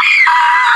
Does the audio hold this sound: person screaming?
yes